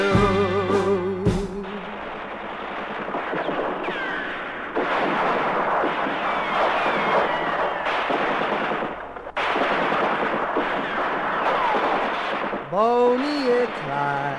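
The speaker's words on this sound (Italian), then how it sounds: "Sparano ma i mitra sono tanti e 400 colpi sono ancora di" Machine gun fire in an animated film: dense, rapid bursts of automatic gunfire rattling continuously over music, with brief pauses between volleys and a whistling tone near the end.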